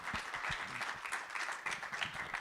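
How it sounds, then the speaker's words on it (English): An audience at the SCaLE 23x tech conference session applauds, a moderate crowd of clapping heard at a modest distance, fairly quiet and steady throughout with a few sharper individual claps standing out. "Let's give another round of applause"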